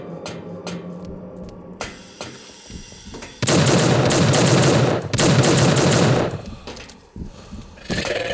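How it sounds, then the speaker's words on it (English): Rapid automatic gunfire in the game Team Fortress 2, with loud sustained bursts of several seconds broken by short gaps and preceded by a few separate sharp shots. "I am glad that my bullets penetrate through the fence."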